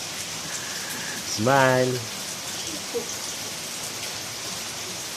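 Steady rain falls on an afternoon of the rainy season, a soft continuous hiss that runs through the whole stretch. Partway through, a brief voice is heard over it.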